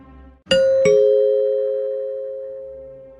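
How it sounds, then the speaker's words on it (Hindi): A two-tone doorbell chime, ding then dong, rings clearly and alone, its second note lingering and slowly fading. "तभी बाहर की घंटी बजी।"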